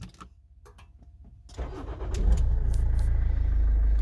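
A Toyota Avensis 2.0 D4-D diesel is started with push-button keyless start. A few faint clicks come first, then the engine cranks and catches into a loud, steady, close idle rumble, with no talking.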